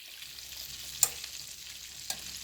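Green beans heat in bacon grease in a pan, a faint steady sizzle with two brief scrapes of stirring, and no one speaking.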